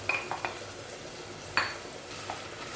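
Onions, meat and chicken fry in a pot for berkoukes, a steady low sizzle with a few sharp scrapes and clinks of a spoon stirring, close and fairly quiet.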